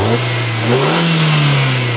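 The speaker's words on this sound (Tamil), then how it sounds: "இப்போ இன்ஜினை ஸ்டார்ட் பண்ணி இதனோட நாய்ஸ் கேட்கலாம்." The petrol engine of a Maruti Suzuki Swift runs close by, holding a steady hum and then briefly swelling in a light rev before settling again. No one talks over it.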